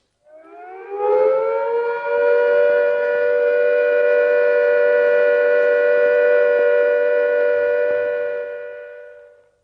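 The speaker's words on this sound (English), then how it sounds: "When the immediate danger of air attack or fallout has passed, the siren will sound a steady note like this." A civil defence siren winds up and then holds one long, steady all-clear note for several seconds before fading, loud and alone.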